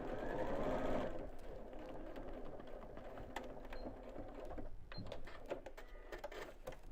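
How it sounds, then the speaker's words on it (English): A sewing machine runs a seam on a fabric roll-up purse organiser, starting with a loud one-second burst of stitching and then settling into quieter, intermittent mechanical clicking and whirring, close by. "sew from the bottom up to the point where you started sewing here"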